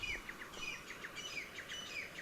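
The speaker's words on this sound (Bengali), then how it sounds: "বুলবুলি" A bulbul gives a quick series of faint, liquid chirping calls at a distance, repeated several times over quiet outdoor background noise, in young teak forest at dawn.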